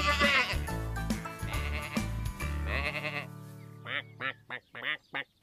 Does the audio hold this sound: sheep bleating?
yes